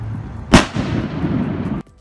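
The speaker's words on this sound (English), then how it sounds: "So this first clip is a consumer firework shell." A consumer firework aerial shell exploding over a neighborhood, one sharp loud report followed by a crackling, rumbling tail lasting about a second before cutting off, heard from a moderate distance.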